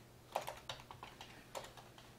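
Typing on a computer keyboard, a quick run of light key clicks in an irregular rhythm, close and fairly quiet, with no talking.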